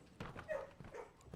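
A dog barks in the Blue Prince video game, a short faint burst of a couple of yips heard alone.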